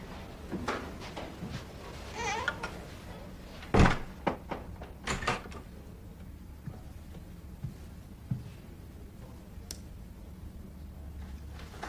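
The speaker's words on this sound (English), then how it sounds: "Close the door." A door shuts with one sharp, solid thud, followed by a few quieter knocks and rustles in a quiet room.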